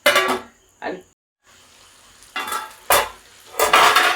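Chicken being stirred in a pan for a homestyle chilli chicken with coconut slivers: short bursts of scraping and clattering with a light sizzle, close and fairly loud, separated by brief quiet gaps.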